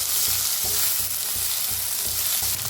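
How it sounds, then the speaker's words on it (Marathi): Small country tomatoes roasting in a hot pan, a dense continuous sizzle with rhythmic scraping strokes of a spatula repeating about every third of a second, close and loud with no talking. "देशी बारीक टमाटर येतात बघा, ते टमाटर घेतलेलं आहे. छान भाजून घेऊया."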